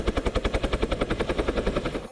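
A police rescue helicopter working a mountaintop rescue gives a close, loud, rapid rotor chop, its evenly spaced thumps running steadily throughout with nothing else heard.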